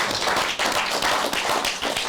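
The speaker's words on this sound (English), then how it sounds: "let's do a round of applause for these guys." An audience gives a round of applause at an event, a short, dense burst of close clapping with no pause.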